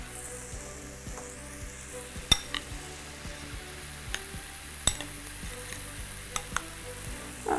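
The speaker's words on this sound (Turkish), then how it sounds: "Böyle hafif yağ ile soteleyeceğim." Food sautéing in a little olive oil in a pan, with a steady soft sizzle throughout, broken by occasional clicks and scrapes of a stirring utensil.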